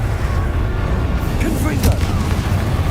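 Confringo fire-spell blast in Hogwarts Legacy, a deep continuous booming roar of explosions over heavy low rumble, with a brief sharper burst near the middle and game voices mixed in.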